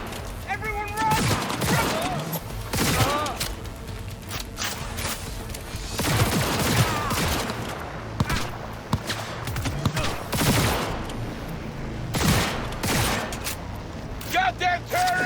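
A Cyberpunk 2077 firefight crackles with repeated loud gunshot bursts in irregular clusters, mixed with shouting voices and clanking effects, dense and close throughout.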